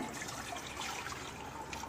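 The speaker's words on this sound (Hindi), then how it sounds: "बॉईल करने के लिए हमने इसमें" Water pours and trickles into a pot set on a gas stove to boil raw green mangoes, a soft, steady liquid splashing, fairly faint and close, lasting about two seconds with no talking.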